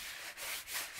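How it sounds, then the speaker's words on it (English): Diamond painting drills rubbed against the edge of a table make a steady, close scraping rub lasting the whole second, with no talk. "I end up always rubbing them on the edge of the table."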